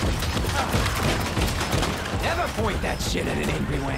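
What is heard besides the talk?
firework-shooting weapon firing in Shadow Warrior 3 video game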